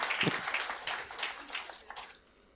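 Audience applause at an accountants' town hall forum, a short burst of scattered hand clapping that thins out and fades within a few seconds.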